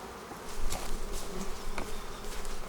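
Honeybees hum around an open hive troubled by hive beetles, a continuous close, dense buzzing drone with individual bees swelling louder as they pass near.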